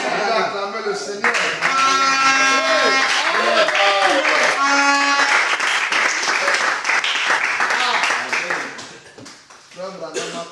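A church congregation claps and cheers loudly during a sermon, dense continuous applause with voices calling out over it, tapering off near the end.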